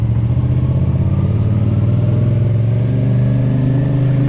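A CFMoto CLC 450 bobber motorcycle rides through town, its engine a steady, loud, throbbing rumble with a slight rise in pitch, close and continuous with no voices.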